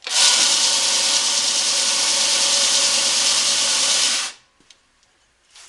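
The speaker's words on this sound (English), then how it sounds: "I like to stand with the grinder this way, arm pretty much in line with the direction of the belt." A belt grinder flattens full tang knife handle scales in a steady, loud abrasive hiss for about four seconds, then cuts off, leaving near silence with a few faint clicks.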